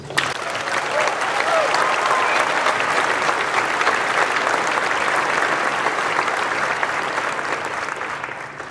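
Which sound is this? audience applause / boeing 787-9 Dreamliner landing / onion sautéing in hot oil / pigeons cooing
audience applause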